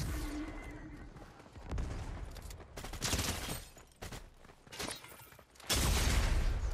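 A new gun fires in Fortnite on a body-cam custom map, with several bursts of rapid gunfire separated by short gaps and ending in a loud sustained volley.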